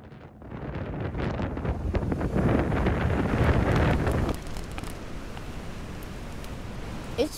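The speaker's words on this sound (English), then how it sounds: "It's pretty windy today." Strong wind buffeting the microphone in the mountains, a loud roaring gust that builds over the first few seconds and then eases into a steadier rushing blow.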